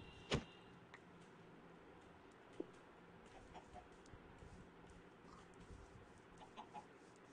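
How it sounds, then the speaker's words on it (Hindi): A Minecraft chicken gives a few short, faint clucks amid quiet game ambience, with a sharper click near the start. "यहाँ पे मुर्गी है"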